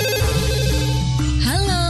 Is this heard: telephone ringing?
yes